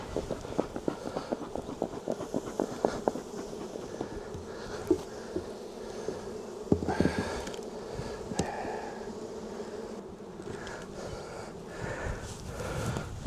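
Honeybees hum around an opened backyard hive during an early spring check, a soft, continuous buzzing close by, mixed with light handling knocks and rustles of frames.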